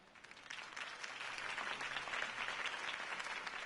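A crowd at a campaign speech breaks into sustained applause that builds and stays steady, dense clapping filling the room with no voices over it.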